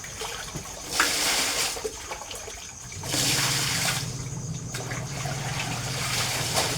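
Water runs from a tap on a farm in the Philippines while laundry is done. It comes in rushing bursts that swell and fade, then settles into a steady, moderately loud flow.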